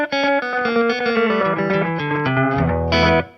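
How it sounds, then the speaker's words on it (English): Electric guitar played through an EQD Space Spiral pedal set to slapback delay with full mix and slight modulation: a quick run of bright, distorted-edged notes, each trailed by a close echo, ending on a held chord. "just a basic slapback with the mix all the way up"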